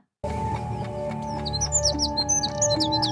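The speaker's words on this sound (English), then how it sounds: "Birds." Several birds chirping and tweeting in quick, bright overlapping calls, starting abruptly over a steady musical background hum, close and fairly loud for a few seconds.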